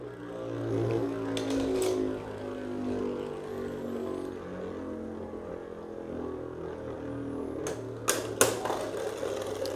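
Beyblade Burst tops (Xcalibur, Fafnir, Ragnaruk) spinning and clashing in a stadium, heard as a steady whirring drone with occasional sharp clacking hits near the end, close and continuous, no talk.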